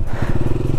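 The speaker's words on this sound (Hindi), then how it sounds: "बाइक भी बंद हो रही, ठंडी हो गई यहाँ पे थोड़ी।" A motorcycle engine thrums with a low, close, pulsing rumble in the cold air of a high mountain pass at about 19,300 feet.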